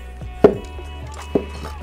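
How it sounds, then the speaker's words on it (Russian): A few sharp knife chops slice olives into rounds on a cutting board, spaced irregularly, close and crisp, with quiet scraping between them. "Оливки. Нарезаем их на кружочки."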